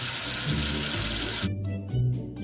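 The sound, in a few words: water washing soap off a letter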